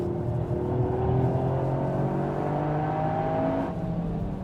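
Toyota GR Yaris engine held at full throttle on the Nürburgring, a loud steady in-car drone with rising pitch as revs climb through a gear, alone with no talk.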